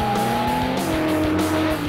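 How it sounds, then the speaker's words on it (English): The Noble SPF GT40 racing car roars under hard acceleration, a loud close engine note climbing steadily through the revs with brief dips at gear changes. "That roar of acceleration which just pumps the adrenaline through your blood"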